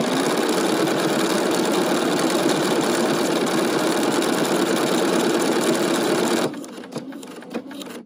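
A Bernina sewing machine stitches out lettering in a steady, rapid mechanical whir for about six seconds, close and even, then stops abruptly, leaving a few quiet clicks and handling sounds.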